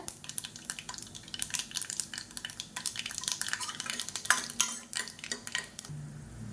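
Urad dal and dried red chillies frying in oil for tulsi-mint rasam, with steady stirring scrapes and light sizzling crackle throughout, close and fairly quiet.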